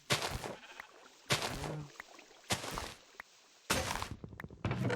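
Several loud, separate Minecraft sheep bleats with short pauses between them, up close, with no talking.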